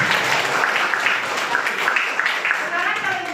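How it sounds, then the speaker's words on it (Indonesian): A classroom of students bursts into brief, dense clapping for about three seconds, with voices mixed in. "Tepuk tangan."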